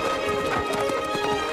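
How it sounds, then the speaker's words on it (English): Horses gallop in a race across open country. Quick, dense hoofbeats drum on steadily and close, carrying on without any talk over them. "The fun-loving Josephine challenges him to a horse race, and Wyatt feels compelled to chase her"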